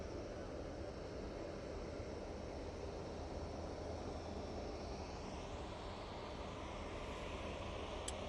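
A Norwegian airliner from Oslo coming in to land at Manchester Airport, heard as a faint, distant, even jet rumble that stays level throughout.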